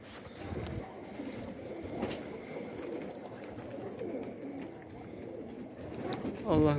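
Pigeons coo softly in a loft, low murmuring calls repeating under light background rustling, with a brief louder noise near the end.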